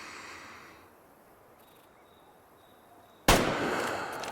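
A single sharp hunting rifle shot in Way of the Hunter 2 cracks out near the end after quiet ambience with a faint insect-like whine, followed by a lingering rumbling tail.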